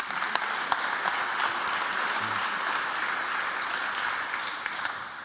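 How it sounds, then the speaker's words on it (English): Conference audience at an electric-vehicle cybersecurity event gives a round of applause, a steady, moderately distant wash of many hands clapping without a break, no talking. "another round of applause"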